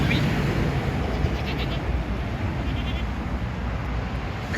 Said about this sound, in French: Elles se baladent, les chèvres sont en pleine forme.